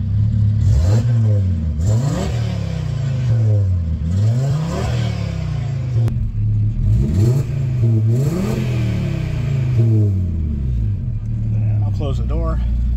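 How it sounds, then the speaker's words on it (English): An Audi RS3 with a modified AWE track exhaust revs hard again and again, the exhaust rising and falling in loud, close sweeps, with someone talking underneath. "it's a track exhaust, it's supposed to be loud"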